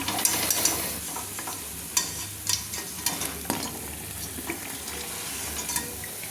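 Cauliflower pakoras fry in hot oil as a slotted spoon lifts them out, a close bubbling sizzle broken by several sharp metallic scrapes and clinks.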